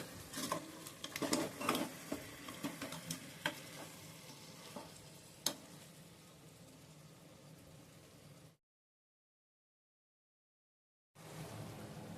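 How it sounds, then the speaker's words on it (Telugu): Tomatoes cooking in a pan are stirred with a utensil, giving scraping and light sizzling with a few sharp clinks, then a brief silence before the sizzle resumes. "వీటిని ఒకసారి కలిపేసుకుందాం"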